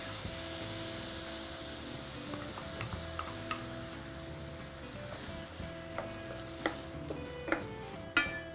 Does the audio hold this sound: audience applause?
no